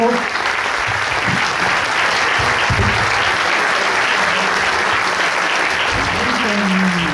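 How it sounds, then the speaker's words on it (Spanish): Loud sustained audience applause from a large crowd at a tribute event in Zaragoza, dense continuous clapping with some cheering voices mixed in throughout. "fuerte aplauso"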